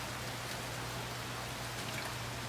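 Soft, steady rain patters continuously, a faint even hiss with no pauses and a low hum beneath.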